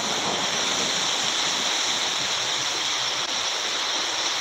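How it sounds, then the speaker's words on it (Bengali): Heavy storm rain with rushing water makes a dense, steady roar, loud and close, unbroken from start to end with no voices. "প্রচুর ঝড় পানি, যেটা আসলে 2025 সালে এত ঝড় পানি কোথাও হয়নি, সেটা দেখাবার জন্য আমি চেষ্টা করছি"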